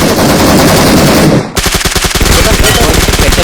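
Loud gunfire in a shooter video game: a dense burst of noise, a short break, then a fast rhythmic string of close automatic shots, with some speech mixed in.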